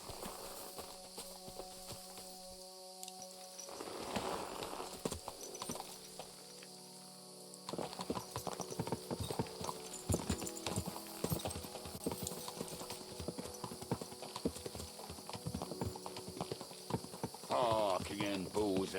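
Hooves clip-clop toward the listener as a horse approaches in the medieval video game Kingdom Come: Deliverance II, with rhythmic hoof strikes building over game ambience and scattered effects, and someone speaking at times over it.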